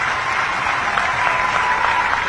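Rally audience applauding a welcome for Bihar Chief Minister Nitish Kumar: steady, dense clapping sustained evenly throughout, loud and continuous with no pauses.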